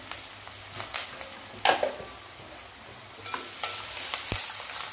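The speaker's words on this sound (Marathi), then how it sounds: "आता खोबरं थोडंसं भाजायचं आणि 1 वाटीभर बारीक कट केलेला कांदा टाकायचा." Onion and grated coconut frying in a pan for a Maharashtrian kothimbir vadi curry, a soft continuous sizzle broken by several scraping stirs of a spoon, close and without talk.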